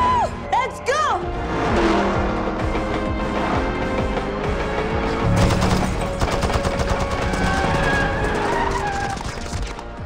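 Rapid gunfire rakes a speeding car in an action movie chase, bursts of shots and skidding tires over a dense score, with voices talking through it.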